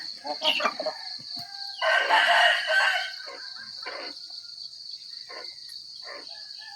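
Chickens on a backyard farm, with a rooster crowing and hens clucking in bursts over a steady high insect drone, crickets chirring throughout.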